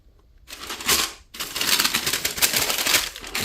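Crisp paper rustling and crinkling as Supreme and Nike wrapping paper is pulled from a box of white Supreme x Nike Air Force 1 low sneakers, two close bursts of dry handling noise with a brief pause between.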